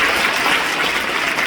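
A church congregation applauds during a Friday night prayer service, steady dense clapping filling the whole short moment at even loudness.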